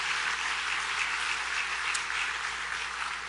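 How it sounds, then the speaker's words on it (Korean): A church congregation gives loud, steady applause for the Melchizedek praise team after they led worship at a spiritual awakening revival gathering; the dense wash of clapping holds at an even level throughout. "우리 큰 박수로 한번 그 수고를 격려해 주셨으면 감사하겠습니다"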